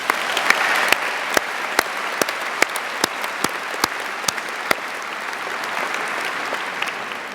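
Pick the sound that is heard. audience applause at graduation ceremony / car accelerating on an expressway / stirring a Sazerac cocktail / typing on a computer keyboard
audience applause at graduation ceremony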